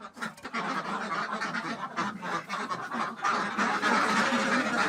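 Khaki Campbell ducks on a duck farm keep up a dense, continuous chorus of quacking and honking calls, close and fairly loud, with overlapping voices throughout and no talk.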